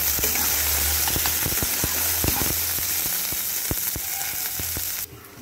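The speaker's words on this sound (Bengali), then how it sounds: "তেলটা ভালো করে গরম করে নিয়ে তার মধ্যে দিয়ে দিচ্ছি পেঁয়াজ, রসুন আর লঙ্কাটা দিয়ে ভালো করে একটু ভেজে নেব।" Onion, garlic and chili fry in well-heated oil for a Bengali bhola fish paturi, a steady close sizzle with scattered crackles and pops that thins abruptly near the end, with no talking.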